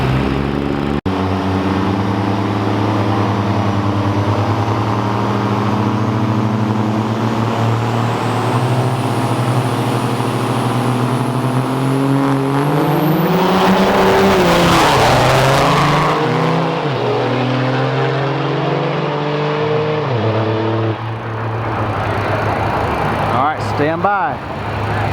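A truck numbered 773 roars down the lane at a truck pull during Rudy's Fall Truck Jam 2018, its loud engine droning and climbing in pitch before easing off, with an announcer talking over it.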